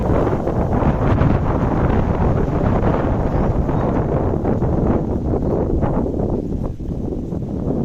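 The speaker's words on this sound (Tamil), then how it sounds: "ஈவினிங் சரியான காற்று எங்கள் ஊரில்." Strong evening wind roars continuously at a small home, buffeting the microphone with a dense, rushing noise that barely varies throughout, with no voices.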